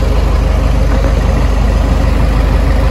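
A John Deere 7000 tractor engine running close up, a loud steady low diesel drone with constant rumble and no pauses.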